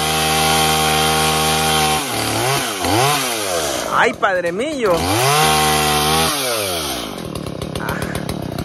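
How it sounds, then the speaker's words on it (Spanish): A loud, close chainsaw cuts through wood at a house under construction, its engine repeatedly revving up and bogging down in sweeping surges while people talk and shout nearby. "ya con la motosierra"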